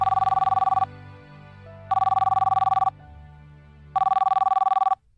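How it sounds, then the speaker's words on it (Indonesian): A mobile phone rings in three loud bursts of a trilling electronic tone, each lasting about a second with short pauses between, with soft background music underneath. "tiba-tiba ponselku berbunyi"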